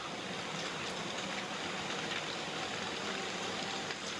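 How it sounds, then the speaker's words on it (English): Heavy rain pours down in a dense, steady hiss with no breaks, loud and close, during a storm bringing flood-level rainfall. "It was just raining and raining and raining, really, really hard."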